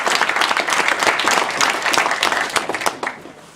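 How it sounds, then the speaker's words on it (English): Press conference audience giving the fighters a round of applause, a sustained patter of many hands clapping at once that thins and fades toward the end, with no talk over it. "let's give the fighters a round of applause for making it through the snow"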